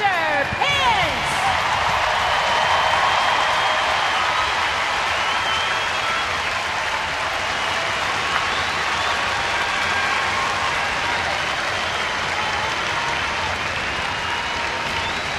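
A baseball stadium crowd gives right fielder Hunter Pence of the San Francisco Giants a sustained ovation, steady dense applause and cheering filling the park for the whole stretch.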